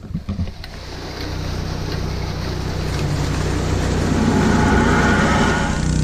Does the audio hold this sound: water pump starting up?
yes